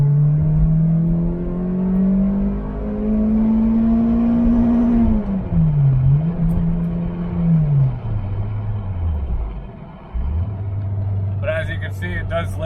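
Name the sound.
Toyota Matrix XRS engine revving to the rev limiter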